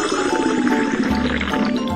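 Water pouring into a toy water tank truck, a close, steady liquid filling and gurgling sound with a pitched resonance, running continuously for a couple of seconds.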